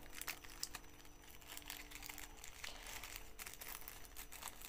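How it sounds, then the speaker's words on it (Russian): Steady crinkling and rustling of a small packet of northern Jacob's ladder seeds being opened close up, a continuous papery crackle with a few sharper crackles. "Откроем пакетик."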